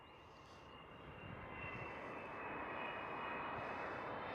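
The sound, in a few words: Delta Airlines Airbus A330 airplane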